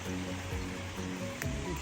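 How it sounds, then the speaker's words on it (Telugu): Rainwater rushing beneath a bridge after rain, a steady broadband wash of flowing water close by, with a faint voice murmuring under it. "దాని కిందలో నుంచి బ్రిడ్జ్ కిందికి వెళ్ళిపోతూ ఉంటుంది వాటర్"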